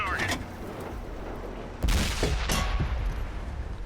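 Artillery fire in a tank video game featuring the M48 Patton: two sharp booming blasts land in quick succession over a continuous low background roar.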